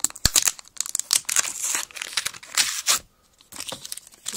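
Packaging of a Samsung SE-S084F slim external USB DVD writer being opened, close crinkling and tearing of cardboard and plastic in irregular bursts with a brief pause near the end.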